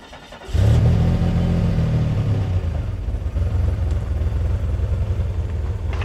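A car engine bursts into a loud, deep revving roar after a brief quiet start, then settles into a steady rumbling idle that carries on close by until the end.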